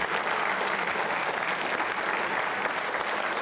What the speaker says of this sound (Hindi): जोरदार तालियां तो बजती रहनी चाहिए सर, जोरदार बजती रहनी चाहिए।